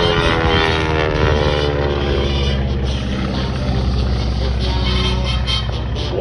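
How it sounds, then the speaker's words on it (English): A Stearman biplane performing aerobatic stunts over El Reno, its propeller tips breaking the speed of sound, gives a loud, steady, rasping engine-and-propeller roar that holds throughout without a break. "That's actually the propeller tips breaking the speed of sound."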